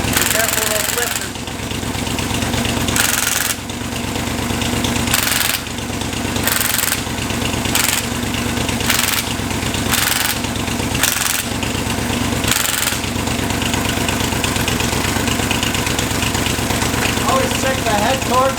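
A Chevy 283 small block V8 running with only one cylinder head fitted idles loud and steady throughout, with a rough, uneven beat and people talking over it.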